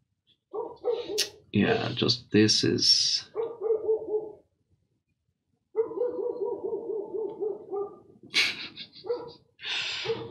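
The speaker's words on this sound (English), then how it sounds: "there's a dog again saying hello." A dog barks a few times indoors, interleaved with a person talking close by; the barks come as short bursts among the speech, moderately loud.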